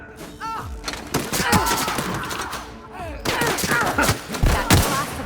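Gunfire from The Outer Worlds video game: rapid, overlapping shots and impacts in repeated bursts, mixed with combat effects and brief voices.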